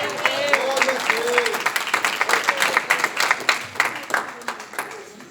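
A church congregation applauds during a worship service, with individual claps standing out in an uneven rhythm, and voices calling out over the clapping.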